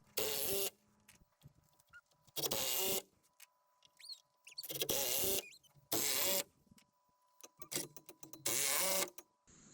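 Screws about 2.5 inches long are driven through a shed's top plate with a power driver. There are five long bursts of whirring drive, each followed by a short click, separated by quiet pauses. The work sounds close and loud.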